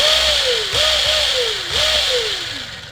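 A 2008 Thunder Tiger KT8 RC car's small engine is throttled up repeatedly: two or three sharp revving bursts that rise in pitch and drop back, fairly close and clear with no talk over them.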